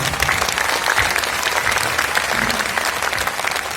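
Sustained, loud applause from a live audience at a Hindi poetry recital for the poet Hariom Panwar, steady dense clapping filling the whole stretch without pause.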